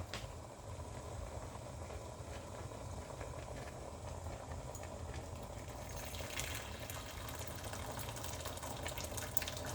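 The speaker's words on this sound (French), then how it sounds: "Je vais rajouter encore de l'eau." Water is poured steadily into a cooking pot of fumbwa with smoked meat, a continuous close rushing and splashing that holds at one level throughout, with a faint voice underneath.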